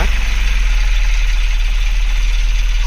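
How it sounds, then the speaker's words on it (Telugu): A Tata Nano's engine idles steadily up close after its radiator is filled with water in place of coolant, a continuous low, throbbing hum with a faint rhythmic knock. "ఇలా రేడియేటర్లో వాటర్ పోసిన తర్వాత కార్ సెల్ఫ్ చేద్దాం ఒకసారి"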